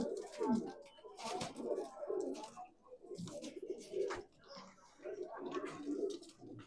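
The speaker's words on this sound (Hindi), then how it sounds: "ये कबूतर तो देखो इसमें और भी पड़े हुए हैं यहाँ" Soft, throaty coos of Gole Punjabi Madrasi pigeons repeat steadily at close range, several birds overlapping in a low, rolling murmur.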